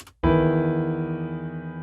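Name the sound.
bass, vocal and guitar notes played together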